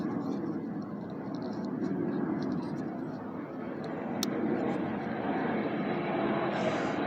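Aircraft passing overhead outdoors, a broad, steady engine roar that swells slightly and lingers, with a voice talking over it.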